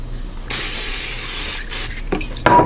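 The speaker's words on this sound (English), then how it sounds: "Give them another little spray." Oil mist sprayed from a spray bottle onto fries for air-fried black garlic bacon cheese fries, a long steady hiss followed by a short second burst and a couple of quick puffs, close and fairly loud.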